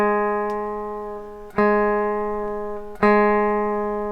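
A single guitar note is plucked three times, the string pressed down hard enough to push it sharp, each pluck ringing out steadily and slowly fading with a bright pitch.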